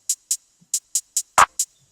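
A normal clap sample in an FL Studio beat, a single sharp, fuller hit landing among a few bright, evenly spaced hi-hat ticks, dry and up close.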